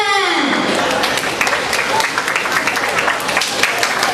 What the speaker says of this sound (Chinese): 来，掌声恭喜他们！